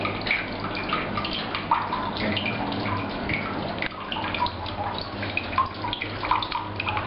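Liquid sloshing and gurgling as a roll of photographic film on a reel is dipped into a tank of developer in a darkroom, with continuous watery splashing, close and steady.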